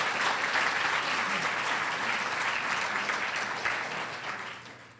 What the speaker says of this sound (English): I think we need to give Delaware Tech Owens campus a round of applause